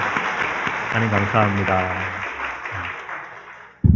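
A church congregation claps together in thanks, a broad wash of applause running beneath a speaker's voice and fading out near the end.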